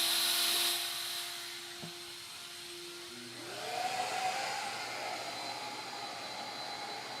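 A CNC router spindle spins up with a rising whine, then settles into a steady high hum as it begins cutting wood, over a constant low drone of machinery nearby.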